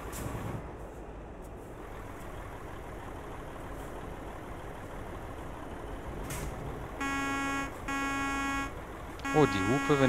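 Truck horn in Euro Truck Simulator 2 sounds in two steady, loud blasts near the end, over continuous engine rumble and road noise, with a rising tone following.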